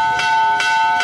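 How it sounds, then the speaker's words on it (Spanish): A church bell in Cantagallo, Bolívar, tolls three times in quick, even succession, loud and ringing. "Doblaron las campanas en Cantagallo,"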